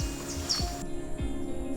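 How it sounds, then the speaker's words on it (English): Birds calling in a Jamaican forest, brief chirps and a high whistled note over a steady buzzing insect-like background, with low thumps underneath; moderately faint and fairly close. "this is where you get a chance to hear the birds"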